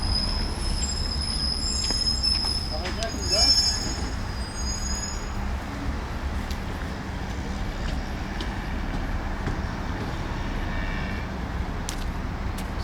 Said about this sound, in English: What a metro station.